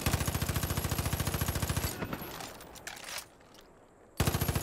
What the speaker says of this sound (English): once this gun is starting to shoot, it's actually not bad